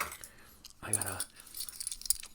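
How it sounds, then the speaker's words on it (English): An assortment of loose metal Allen keys jangles and clinks in one clear handful of rattling, followed by lighter scattered ticks, heard up close in a quiet setting alongside soft speech. "wide assortment of Allen keys"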